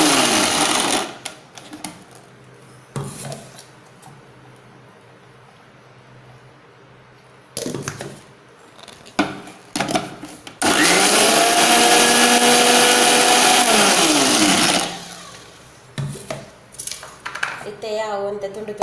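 A kitchen mixer grinder grinds grated bottle gourd into neer dosa batter, a loud steady whirring roar for several seconds, with clinks and rattles of the jar and lid before and after.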